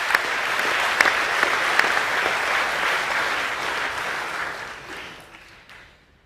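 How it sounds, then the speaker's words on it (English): Sustained applause from an audience at an annual academic awards presentation evening, honouring award winners; dense, steady clapping that fills the room and then gradually fades out over the last couple of seconds. "Can I ask you to give one last round of applause"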